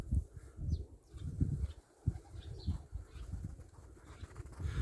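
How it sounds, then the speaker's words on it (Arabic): Pigeons from a field of pigeon towers in Egypt pass close overhead, a busy flutter of wingbeats with soft rustling and faint cooing, irregular bursts rising and falling over a few seconds, no talk. "يعني صوت الحمام لما يبقى معدي كده فوق منك مره واحده بتلاقي الصوت جميل خالص"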